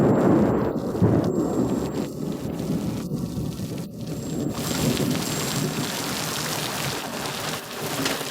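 Steady heavy rain pours throughout a drama scene, with rolling thunder rumbling along beneath it; broadband hiss stays loud and even from start to finish, with no voices.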